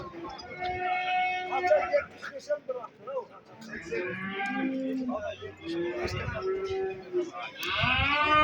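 Cattle at a livestock market in Sungurlu, Çorum, give several loud drawn-out moos, some close and some farther off, amid crowd chatter and people talking.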